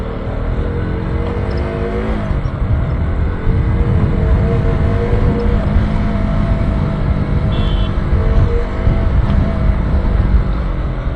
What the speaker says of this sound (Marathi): हर्षलनी गाडी वाटतो पाठून वरती गेली.